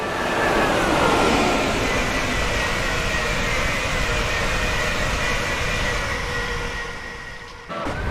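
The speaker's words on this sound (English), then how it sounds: "I'll shut up so you can hear the train." Train climbing toward Shap on the West Coast Main Line in a train simulator game, a loud steady engine drone with a slowly shifting tone that eases off near the end, heard alone without talk.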